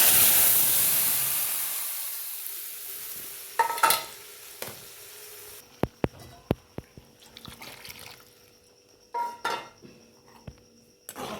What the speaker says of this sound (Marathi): कोथिंबीर पण मी आता तेलामध्ये टाकते